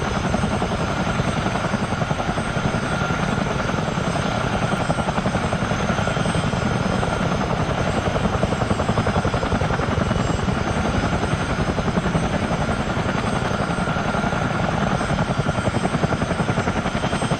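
Miltech Simulations CH47D Chinook tandem-rotor helicopter in Microsoft Flight Simulator, a steady loud rotor and engine drone with fast rhythmic blade chop throughout, no voices.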